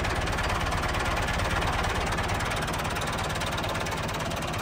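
A Massey Ferguson 385 tractor engine idling, a steady low rhythmic diesel chug with a fast even knock, heard close and continuous with no talk.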